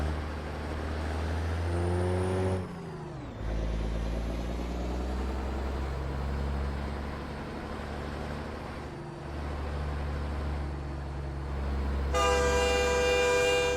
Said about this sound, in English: Can't stand the freaking trains in this game.